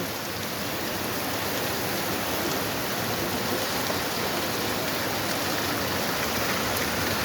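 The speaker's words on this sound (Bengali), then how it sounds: "রিমঝিম রিমঝিম বৃষ্টি হচ্ছে, প্রচণ্ড বাহিরে বৃষ্টি।" Heavy rain pours down outside a shop, a steady, dense hiss of water that holds constant and loud for the whole stretch with no voices.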